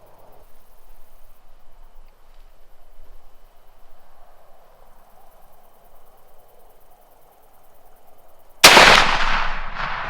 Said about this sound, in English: I shot her right in the middle shoulder.